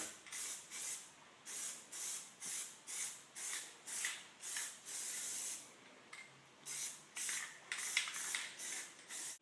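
Plasti Dip sprays from an aerosol can onto a car wheel rim in a steady series of short, close hissing bursts separated by brief pauses, with no talking.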